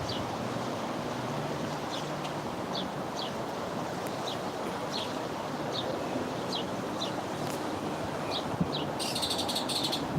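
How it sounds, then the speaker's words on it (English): Repeated short bird chirps ring out at a regular pace over a constant wash of wind or surf, with a rapid trill near the end. "Hello, cutest bird."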